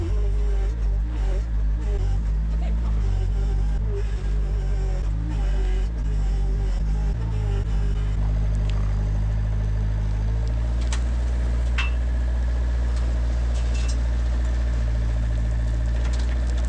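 A skid steer engine runs steadily at a muddy forest road work site, a loud continuous low rumble with a slight drop in pitch partway through, the machine working alone without talk.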